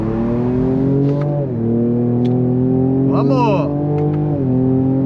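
A Ford Ranger Raptor pickup accelerates hard from a standstill in two-wheel drive with manual shifting, its engine loud and close. Pitch rises steadily, dropping at two quick gear changes, and a voice briefly shouts over it.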